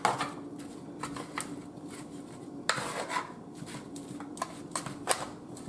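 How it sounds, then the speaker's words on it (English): A spoon scrapes and clatters in a pot of shrimp, potatoes, sausage and corn, giving soft irregular clinks and sloshing knocks at close range, fairly quiet, with no talk. "Let's give it a good stir."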